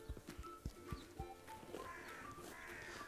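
Donkeys at an animal shelter play and tug at each other's collars, giving off irregular hoof thuds and scuffles over a quiet outdoor background with faint bird calls.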